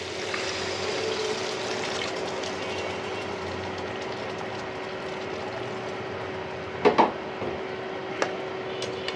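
Water poured into a pan of lightly sautéed big fish pieces for a fish curry with potato, a steady rushing hiss throughout with a short clattering burst near the end.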